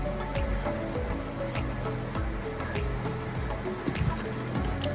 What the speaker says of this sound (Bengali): আর এখানে আমি শিম ক্লিন করে নিচ্ছি ভালো করে ধুয়ে নিচ্ছি